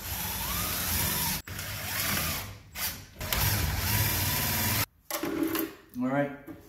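A power drill whirs in short bursts as it drives screws into a pellet stove insert during a home installation, its motor pitch rising and falling, close by, with some rattling clanks near the end.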